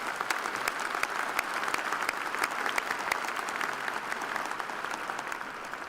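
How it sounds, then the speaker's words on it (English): A large commencement audience at Ohio University's fall ceremony applauds special guests, a dense steady roar of many hands clapping evenly throughout with no pause. "let's give all of our special guests a round of applause as well."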